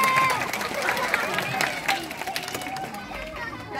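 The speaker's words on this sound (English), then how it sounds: "I think everyone should give you a cheer" An audience at a UK safari park sea lion show applauds and cheers at moderate distance, scattered clapping and chatter rising and tapering over a few seconds.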